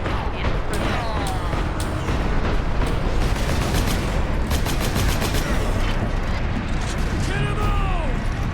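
Rapid gunfire rattles through a Space Marine video game battle, bursts of automatic shots and booming impacts over a constant din, with voices speaking over the combat.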